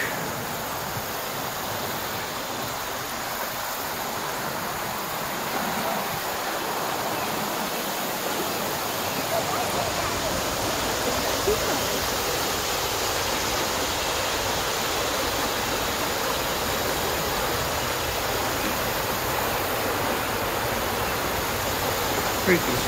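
A creek swollen by overnight rain rushes loudly in a continuous broadband roar, steady and close throughout with no other distinct sounds.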